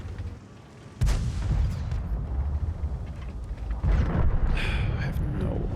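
Heavy tank cannon fire in the World of Tanks video game, a sharp boom near the start and another deep blast later over a rumbling engine, while a player talks.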